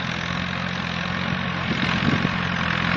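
A tractor engine drones steadily during inter-row weeding in a cotton field, a loud continuous rumble with little change throughout and no voices.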